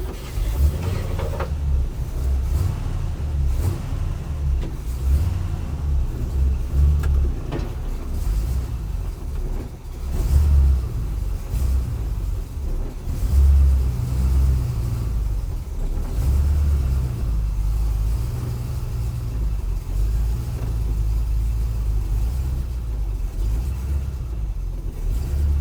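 A 1953 GMC truck engine runs steadily while the truck drives along a driveway and down a hill, a deep continuous rumble with slight swells of revving, close and loud throughout with no talking.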